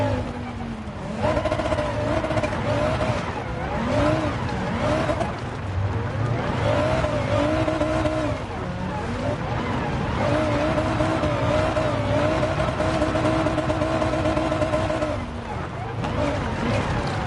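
A race car engine in the GT Sport video game roars continuously, rising and falling through repeated revs and shifts, with tire squeal mixed in and a voice talking over it.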